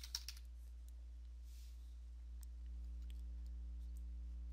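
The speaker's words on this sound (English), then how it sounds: "we're going to type in PowerShell" A few quick keystrokes tap on a computer keyboard at the start, then fade to a quiet, steady electrical hum.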